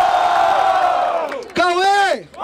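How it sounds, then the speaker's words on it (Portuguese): A crowd at a Brazilian rap battle in Barueri, São Paulo roars and whoops loudly, with a host's shouted voice rising over the sustained cheering. "muito barulho pra quem curtiu as rimas do Mike!"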